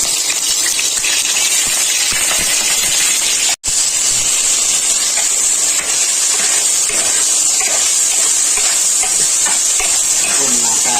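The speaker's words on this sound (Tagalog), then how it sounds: "mainit na po yung ating mantika. Prito po muna natin." Washed vegetables for pakbet frying in hot oil, a steady broadband sizzle and hiss running throughout with a brief dropout near the start, close and loud, no talking.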